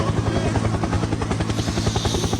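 A helicopter's rotor thumps in a fast, steady beat over a continuous engine whine, loud and close for the whole stretch, with no voices over it.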